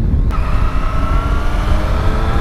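A Triumph Street Triple S motorcycle on a curvy road gives a steady, loud engine drone with strong wind rush, continuous and close.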